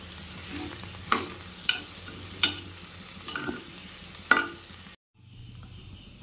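Soaked rice is stirred and fried with bay leaf and cardamom in a pressure cooker. It gives a soft steady sizzle, and a utensil scrapes the pot in about five sharp strokes before the sound cuts out.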